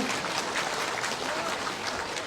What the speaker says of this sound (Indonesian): Tepuk tangan untuk Pak Anies Baswedan